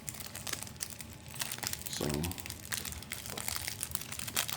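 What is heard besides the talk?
crinkling wrappers while opening 1999 Skybox Thunder card packs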